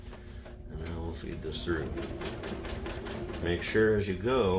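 Sewing machine stitching upholstery fabric for a 1966 GMC seat, a rapid rattling needle chatter that speeds up and strains, heard under someone talking close by.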